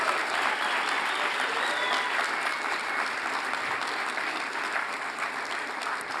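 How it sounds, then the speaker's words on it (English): Steady, dense applause from a large audience at a high school equivalency commencement ceremony for graduates, sustained at even loudness throughout with no break. "Can we have a big round of applause for all of these"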